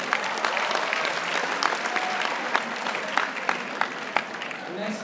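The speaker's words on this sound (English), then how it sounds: "big round of applause for our next speaker" Steady audience applause for the next speaker at a job-market event, a dense wash of many hands clapping at close-to-moderate distance with occasional sharper individual claps standing out, continuing evenly throughout.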